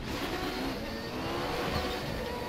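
An Audi 90 race car engine in the RaceRoom racing game, a steady low mechanical drone with a faint whine on top, fairly quiet and held at a constant level, with nobody speaking.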